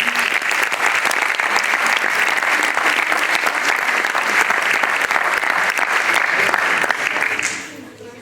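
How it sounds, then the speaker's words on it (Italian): Audience applause, loud and dense with many hands clapping at once, sustained evenly for several seconds before fading out quickly at the end. "Un altro applauso."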